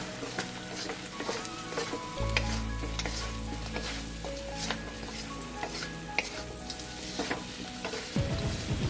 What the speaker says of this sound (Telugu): ఒక 3 నిమిషాల వరకు సేమ్ మీడియం ఫ్లేమ్ లోనే అలాగే ఫ్రై చేయాలి.